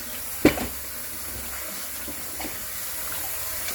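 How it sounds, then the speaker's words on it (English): Tap water running steadily into a sink over raw chicken being washed with vinegar and lime for Jamaican curried chicken, a soft continuous hiss with a brief splash or knock near the start. "I run some more water under."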